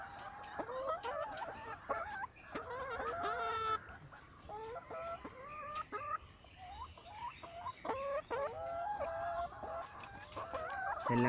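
Several hens cluck and cackle in short, overlapping bursts, fairly close and steady throughout, with an occasional rooster-like crow mixed in and no speech.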